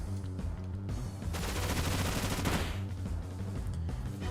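Bullet Seed attack in a Pokémon Brilliant Diamond/Shining Pearl battle, a dense rapid burst of popping impacts lasting a couple of seconds over steady battle music.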